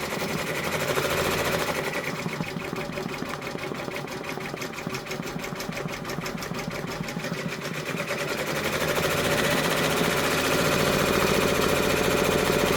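An embroidery machine stitching an OESD freestanding pumpkin quilt block, a fast steady mechanical needle chatter droning on continuously at close range with no pauses.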